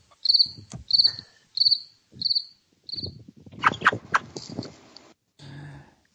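Cricket chirps played as a sound effect on a talk podcast: five evenly spaced high trills open the clip, followed by a denser burst of chirping and clatter, with no talk over it.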